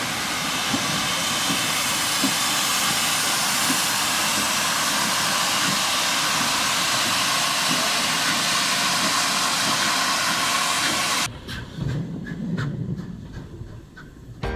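A South African Class 19B steam locomotive runs with a loud, steady roar and rumble that holds for about eleven seconds, then drops abruptly to a quieter rumbling.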